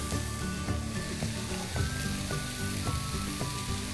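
Rice being stir-fried in a hot pan for chilli coriander fried rice gives a steady, close sizzle with rhythmic scraping and stirring strokes, and no one speaks.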